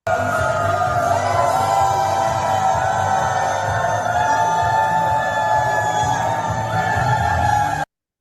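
A played-back recording of a huge crowd at a business rally roars and cheers in a loud, continuous wall of massed voices with sustained shouted tones, cut off sharply at the end.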